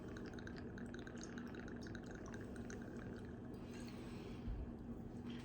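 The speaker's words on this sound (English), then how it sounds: "And then we will top with our Gosling's Black Seal Rum." Gosling's Black Seal Rum poured over ginger beer for a Dark 'n Stormy, a soft, steady liquid trickle and drip close by, quiet and continuous with a faint thud near the end.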